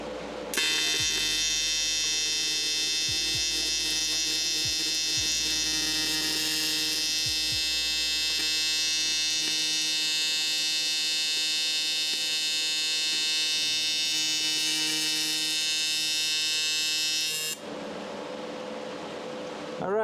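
TIG welding arc on a freshly rebuilt engine: a steady, loud electric buzz with a high whine holds for about seventeen seconds, then cuts off abruptly, with no talk over it.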